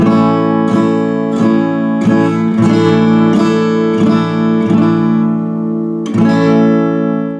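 An acoustic-style guitar strums an E-shape chord with a suspended fourth repeatedly in a steady rhythm, each strum ringing into the next, with a final strum left to sustain.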